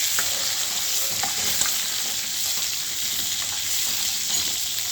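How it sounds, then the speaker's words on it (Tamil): Brinjal cooks in oil over a low flame, a steady, dense sizzling hiss that holds evenly throughout with only faint occasional ticks, loud and close with no talking. "இந்த கத்திரிக்காய் எண்ணெயில் கொஞ்சம் வேக விடுவோம்"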